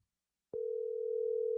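A telephone dial tone starts abruptly after half a second of silence on a landline with a new phone cord, then holds as one steady, unbroken hum to the end, with no voices.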